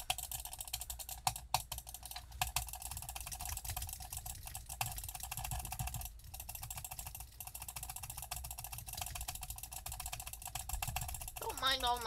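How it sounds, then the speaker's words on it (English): Rapid, loud clicking of a computer mouse or keyboard during Roblox gameplay forms a dense, continuous rattle of clicks over game music. "very loud clicking"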